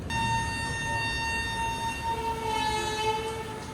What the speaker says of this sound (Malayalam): ഈ ലോക്കോടെ ഹോൺ കേൾക്കാൻ വേണ്ടി നല്ല രസമാണ്.